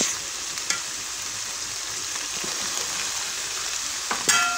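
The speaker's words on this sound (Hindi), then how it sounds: "अब हम इसमें डालेंगे भिंडी और डालेंगे प्याज" Okra and onion dropped into a hot pan set up a steady, close sizzle of frying with a few brief stirring scrapes near the start and end.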